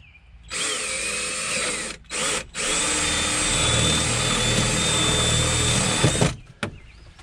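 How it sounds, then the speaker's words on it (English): A power drill whirs at high speed drilling a hole in a Honda Pioneer 700, briefly pausing twice early on, then runs steadily for several seconds before stopping, close and loud. "now I'm just gonna drill a hole over here"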